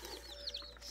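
A group of little chickens clucking softly up close, short faint chirps and clucks over a quiet background.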